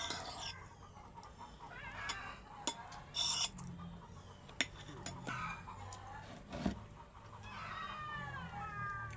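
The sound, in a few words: chickens clucking in the morning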